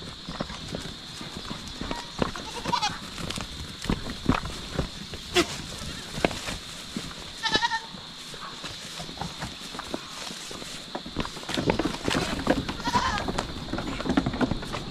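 Goats bleat intermittently at a farm amid hoof clatter and rustling, the calls moderately near over a steady background hum, with occasional voices.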